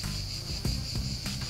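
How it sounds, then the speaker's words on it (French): Cicadas buzz outdoors in summer as a steady, high insect drone that holds throughout, with a few low thuds beneath it. "les cigales sont arrivées, mes amis"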